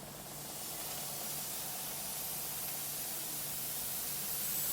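A facial steamer puts out a soft, continuous hiss of steam that swells slightly over the first moments and then holds steady and faint, with no other sounds.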